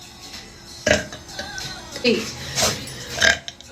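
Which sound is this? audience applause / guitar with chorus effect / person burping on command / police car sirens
person burping on command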